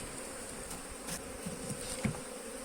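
Honeybees hum steadily at an open hive of three frames, a close, dense buzz with a few louder passes of single bees near the end.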